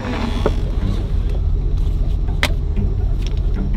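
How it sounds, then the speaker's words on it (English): Fake Lamborghini replica car engine idling steadily with a deep, continuous rumble, close and fairly loud, alone without talk. "it sounds pretty good. It's about what you'd expect a Lamborghini like this to sound like"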